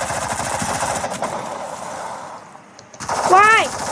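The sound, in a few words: gunfire in a video game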